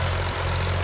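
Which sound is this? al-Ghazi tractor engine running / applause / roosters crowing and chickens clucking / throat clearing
al-Ghazi tractor engine running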